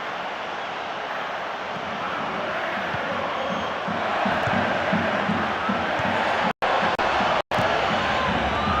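A virtual stadium crowd in the PES 2013 football video game keeps up a steady roar and murmur, moderately loud, with the sound cutting out briefly twice near the end.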